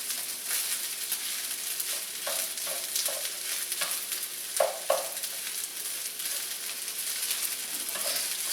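Fried rice with pork and egg sizzles steadily in a hot pan while a utensil scrapes and tosses it in irregular clanks and scrapes, close up, with no talking.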